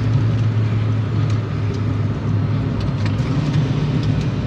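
Megasquirt MS3X-tuned car engine running steadily at low, even revs while slowing down into second gear, a loud, close and constant droning hum with no talk over it.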